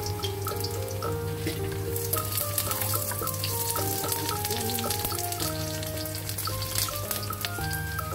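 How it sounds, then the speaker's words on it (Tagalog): Chopped garlic fries in a pan, sizzling steadily and evenly at close range for the whole stretch, with light clinks of stirring over it. "Gagawin po natin golden brown ang ating bawang mga ka-angels."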